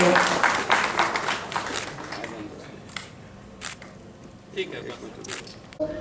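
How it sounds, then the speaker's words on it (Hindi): Audience applause at an inauguration ceremony for a mobile service app, a patchy burst of clapping at the start that thins into scattered claps over a murmur of the crowd. "थोड़ा सा तो तालियां ज्यादा होनी चाहिए।"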